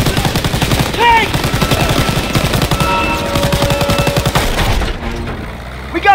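Call of Duty WW2 combat near a train, with rapid machine-gun bursts firing loud and close in steady rhythmic volleys, scattered shots and shouted voices over it before the firing drops away near the end.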